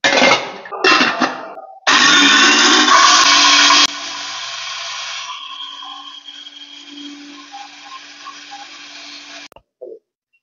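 A dry masala grinder machine grinding spices, lentils and rice into powder, loud bursts of whirring and rattling that start and stop, then a long steadier hum that fades out, with no talking.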